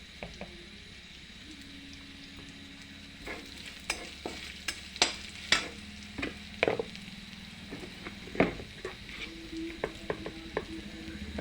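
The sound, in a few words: stirring frying onions, garlic and spices in a pan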